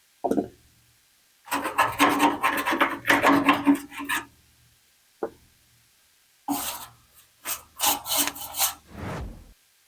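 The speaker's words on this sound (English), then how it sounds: "We use a chisel end to get off the larger chunks, what remains of the glue." A chisel edge scrapes leftover old glue off the bed rail of a Ford Bronco, giving close, rough scraping strokes in several bursts separated by short pauses.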